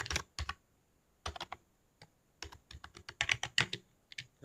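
Keyboard typing on a computer while laying out a club flyer, with clusters of crisp key clicks in short bursts separated by brief pauses, close and fairly quiet.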